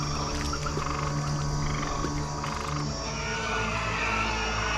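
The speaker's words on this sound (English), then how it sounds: "The stinking blood waters suddenly produced millions of frogs." A vast mass of frogs croaking in a biblical Egypt plague scene from an animated film, a loud, dense, continuous chorus of overlapping croaks and drones with rhythmic pulsing, no speech.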